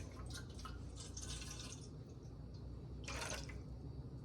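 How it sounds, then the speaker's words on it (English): Water pours into a mixing bowl for soapmaking, a faint trickling and splashing with a brief louder gush toward the end. "Now I'm going to go ahead and put the water in the bowl"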